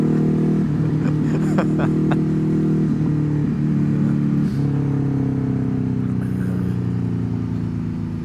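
A motorcycle exhaust hums close and steady on an uphill ride through Wales, with its pitch shifting a few times as the throttle changes. Some talking can be heard over the engine.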